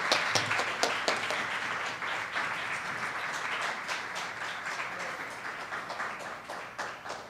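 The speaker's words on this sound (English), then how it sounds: "Another round of applause for Zara Ahmed." Applause from an audience at an awards ceremony honoring a student speaker, a steady dense wash of clapping lasting the whole stretch at moderate distance with no voices over it.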